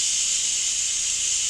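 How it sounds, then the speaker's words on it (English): Steam hissing out of an Instant Pot on quick release, a steady, loud, high hiss that holds without a break and with no voices. "I'm going to go ahead and hit the quick release on it, and let this steam out of there."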